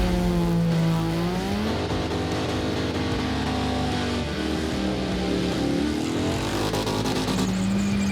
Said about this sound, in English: We like to have a private skid day every now and again.